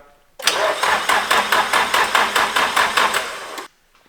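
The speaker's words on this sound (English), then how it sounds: "Right now we're going to test to see if the car starts" A Nissan S13 engine cranks hard in a garage without catching, a loud, steady rhythmic churning of about a dozen even pulses that runs for three seconds and then cuts off abruptly.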